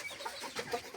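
Chickens and chicks of a breeding flock, including bantams, cluck and peep in a steady overlapping chatter, fairly close and moderately loud, with no voices.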